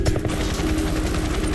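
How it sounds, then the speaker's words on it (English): A crippled helicopter caught in a sudden storm over the North Sea gives a steady, dense rotor roar with rapid chopping pulses, loud and continuous throughout, with no voices. "A helicopter is crippled in the middle of a sudden storm."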